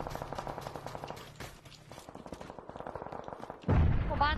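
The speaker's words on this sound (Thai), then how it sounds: "หมู่บ้านนี้ยิงกัน" Rapid bursts of gunfire in the PUBG battle royale game ring out around a village, with repeated shots in quick succession, a brief pause and a louder close-up crack near the end.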